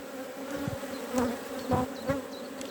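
Honey bees hum around an open hive during an inspection, a close, steady drone marked by a few louder bumps and passes from individual bees, with no speech.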